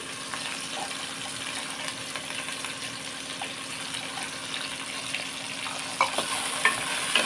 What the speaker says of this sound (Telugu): ఇవన్నీ ఇప్పుడు వెజిటేబుల్స్ ఇవన్నీ బాగా వేగాలి